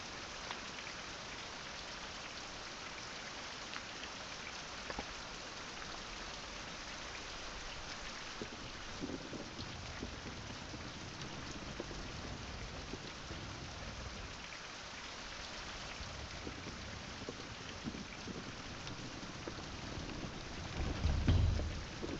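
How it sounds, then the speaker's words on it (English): Steady rain falls in the video game Survival: Fountain of Youth, a dense, even hiss of drops on surfaces that continues unbroken throughout, with a brief low thump near the end and no voices. "I'm not so happy with the rain."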